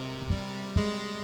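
Low-register synth part from a Novation Circuit, with two soft deep notes struck about half a second apart over a steady sustained tone, heard alone at modest level.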